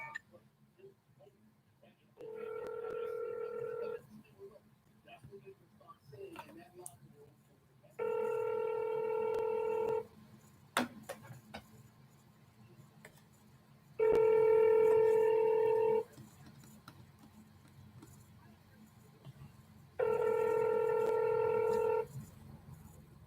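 An outgoing call rings back through a phone speaker in four evenly spaced, sustained electronic ring tones with quiet gaps between them, while faint room noise and a little soft speech sit underneath.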